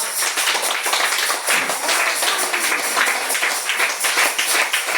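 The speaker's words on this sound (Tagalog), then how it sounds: "sabayan nyo yung palakpak" Church congregation clapping together, a dense, steady patter of many hands that carries on for several seconds, loud and close with no voices on top.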